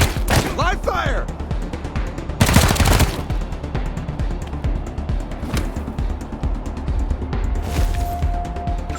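Gunfire during a combat encounter in the post-apocalyptic role-playing game Wasteland 3: loud bursts of automatic fire with sharp cracks and a heavy blast, repeated shots ringing out over continuous game noise.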